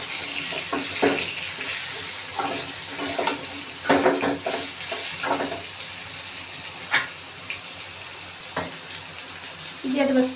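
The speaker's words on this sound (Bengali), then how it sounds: "আমগুলো ঢেলে একটু নেড়ে নিয়ে" Raw mango pieces are stirred in a hot pan, with repeated scraping and clattering strokes over a steady sizzle, close by, and a faint voice near the end.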